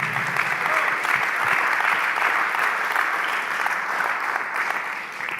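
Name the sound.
church congregation applause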